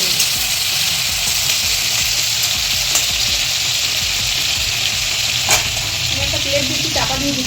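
Tomatoes fry in a pan as they soften for a chickpea curry, giving a loud, steady, unbroken sizzle with a few faint clinks, and no voices.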